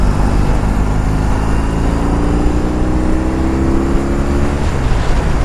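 A 2021 BMW R18 cruising on a highway gives a loud, steady engine drone with wind rush as the revs slowly climb through a gear, and no one speaks.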